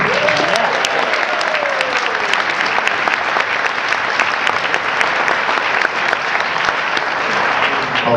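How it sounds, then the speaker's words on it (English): Steady applause from the audience at a crossword tournament, many people clapping continuously at a constant loud level with a brief voice near the start. "let's have another round of applause for Mike Shane."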